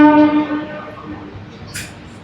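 MEMU train 67261 pulls away from Rajahmundry station, a strong sustained horn tone at the start fading into a low rolling rumble with a brief hiss near the end.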